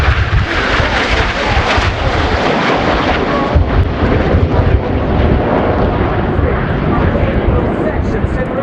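Italian Air Force Frecce Tricolori aerobatic jets in an air show flying display at RIAT, a loud continuous broadband jet roar filling the whole stretch with steady rumbling intensity.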